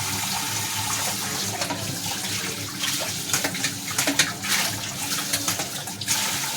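Tap water runs steadily into a cooking pot while it is being washed, a continuous close splashing and rushing with scattered clanks and scrubbing knocks, with no talking.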